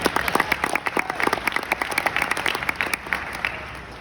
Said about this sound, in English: Yeah, go ahead, clap, that's fine.